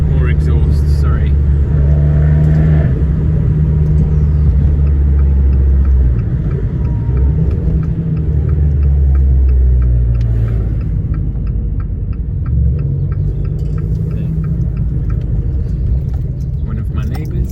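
Abarth 595 turbo engine and exhaust heard from inside the car while driving, a loud, low rumble that rises and falls as it accelerates through the gears, with someone talking over it.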